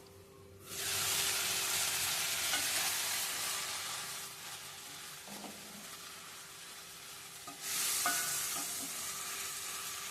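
Tomatoes cooking on a stove over medium heat with tamarind, salt and chili, a loud, close, continuous hissing sizzle that starts abruptly, dips briefly midway, then surges again, with a faint stir or two and no speech.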